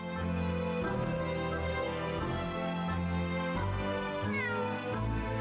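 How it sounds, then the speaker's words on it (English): A cat meows and caterwauls steadily, close and clear, its drawn-out cries rising and falling over several seconds without pause. "Meow."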